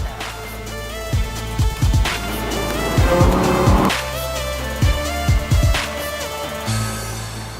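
A Lamborghini sports car's engine revs and roars while driving, with tyre squeals and repeated surging accelerations over a steady rumble, loud and close with no talking.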